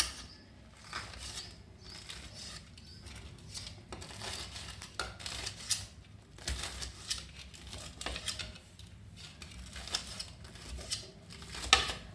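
A knife cuts fried chili bajji (Rayalaseema mirapakaaya bajji) into small pieces, giving faint, irregular crunchy cuts and soft taps on a board over quiet background noise.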